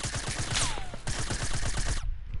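Rapid gunfire in a Fortnite match, a dense run of sharp cracks fired near and loud, with a whistling streak through the middle and a sudden cut to quiet near the end; a headshot lands in the exchange.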